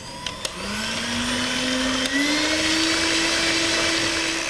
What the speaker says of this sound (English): You need to whisk it for about 8 to 10 minutes.